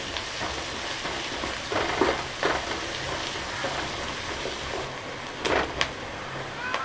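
Sliced onions and green chilies sauté in hot oil for an egg curry, a steady close sizzle with occasional stirring scrapes and clinks.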